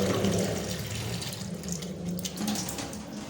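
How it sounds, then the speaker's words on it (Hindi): Water from a glass is poured into a cooking pot in a home kitchen, a steady splashing stream that is loud at first and then eases off, with no one speaking. "तो देखिए मैंने इसमें पानी डाल दिया"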